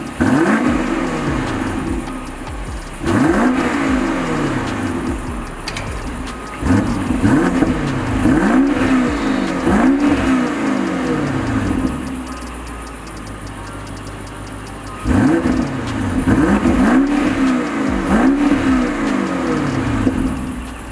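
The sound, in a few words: 2022 BMW Alpina XB7 exhaust revving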